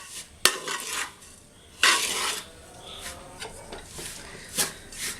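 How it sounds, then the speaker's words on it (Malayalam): Rice flour being stirred in a pan on the stove for avalose podi, with intermittent scraping and rubbing of a spoon against the pan and occasional sharper clinks of metal, fairly close and without talk. "ഇങ്ങനെ ഇളക്കിക്കൊണ്ടേ ഇരിക്കുക"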